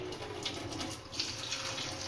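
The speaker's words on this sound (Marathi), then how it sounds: "हे काढल्यावर एका थंड पाण्याखाली याला घ्यायचं" Cold tap water runs steadily over freshly made homemade paneer as it is rinsed in a kitchen sink, a soft continuous splashing stream with no talking.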